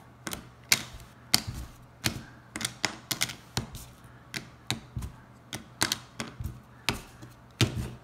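Board game pieces from Parks being shuffled and set down, a sequence of sharp, close clicks and taps on a table in an irregular rhythm, with brief quiet gaps between the knocks.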